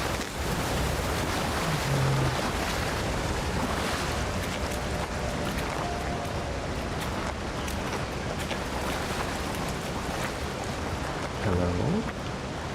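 Waterfall in the video game Avowed gives a continuous rushing wash of water noise, steady and fairly close, with a few faint tonal game sounds appearing briefly over it.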